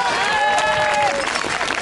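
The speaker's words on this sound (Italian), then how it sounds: "Un grande applauso a, questi, a questa orchestra di Campanacci" Crowd applause and cheering ring out at an outdoor mountain music festival, praising a cowbell orchestra; brief, busy clapping with a few whistles or shouts, and a voice talking over it.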